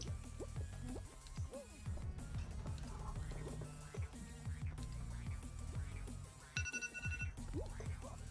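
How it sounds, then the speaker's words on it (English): A phone timer alarm goes off near the end, a brief bright ringing tone over constant busy Fall Guys game sounds, clicks and thumps throughout. "I have a timer. You can hear. My phone just went off."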